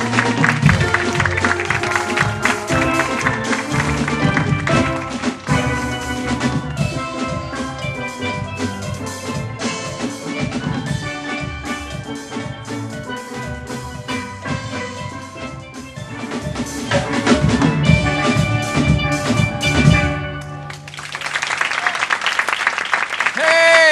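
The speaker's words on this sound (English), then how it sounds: "You hear that steel pan over there?" A steel pan orchestra playing a loud, dense, continuous rhythmic piece with bright ringing metallic tones, followed by a short burst of applause near the end.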